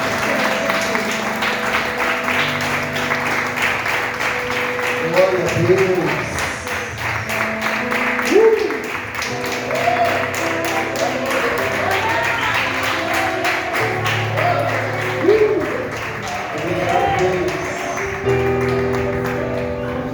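Applause from a church congregation rolls on at length, the clapping mixed with sustained music and voices, swelling in a few places as people call out.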